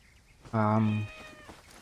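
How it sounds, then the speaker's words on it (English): A single cat meows once in Assassin's Creed Origins, a clear, drawn-out, tonal call rising out of quiet game ambience. "Cat."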